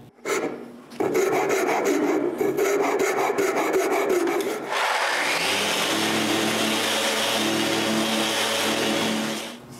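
Square corners of wooden tripod legs are rounded off with a continuous close, loud rasping scrape whose tone shifts about halfway through and carries on steadily to the end.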